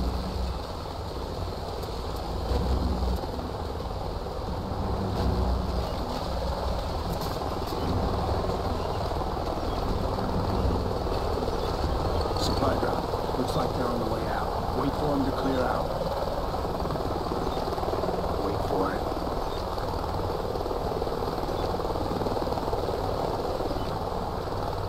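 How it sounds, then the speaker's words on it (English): In a canyon mission of Call of Duty Ghosts, a helicopter drones steadily throughout as a low continuous rotor rumble, heard under spoken dialogue and ambient outdoor game sound. "Sounds like a chopper's up ahead of us."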